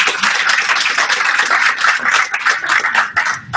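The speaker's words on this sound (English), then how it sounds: "I wanted to just another round of applause for both Anne and Charlotte." An audience at a talk on Universal Design for Learning gives a dense round of applause, with close, steady clapping that lasts a few seconds.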